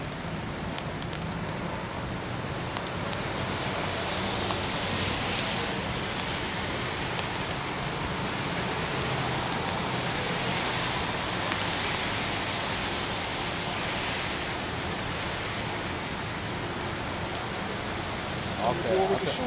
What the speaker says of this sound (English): It's fucking raining, man.